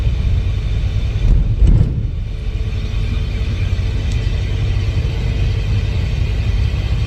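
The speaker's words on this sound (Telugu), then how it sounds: "బస్సు అయితే విజయవాడ నుంచి హైదరాబాద్ స్కానియా బస్సు" A Scania bus travelling from Vijayawada to Hyderabad gives a deep, continuous engine and road rumble from inside the cabin, steady and loud, with a brief swell of heavier drone near the start.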